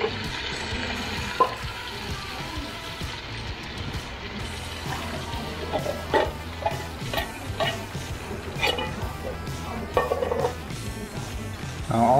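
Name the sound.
canned black beans with juice added to pan and stirred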